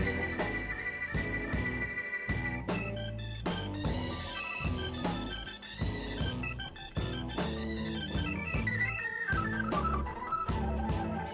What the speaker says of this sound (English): Keyboard solo